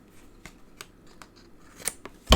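Scissors snip through card paper in a few separate close cuts, scattered quiet clicks building to a louder final snip, with no talking.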